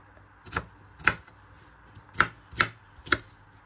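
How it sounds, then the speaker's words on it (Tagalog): A knife slices through frozen strawberries on a board for a no-bake strawberry cheesecake. Five sharp, distinct chops ring out at uneven intervals, close and clear, with no talk. "Ito po strawberry natin. Slicein ko lang siya ha."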